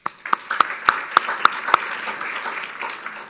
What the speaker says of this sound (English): So big hand of applause for Barry Parkins as well.